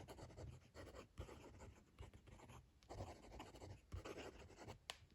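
A fountain pen with a generous medium nib writing quickly on paper, close scratchy strokes in an uneven rhythm of short bursts with brief pauses, quiet and alone.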